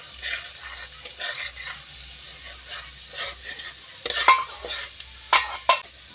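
Whole cumin and black cumin frying in oil in a pan, a soft intermittent sizzle with rhythmic stirring scrapes and a few sharper clinks of a utensil against metal, close by.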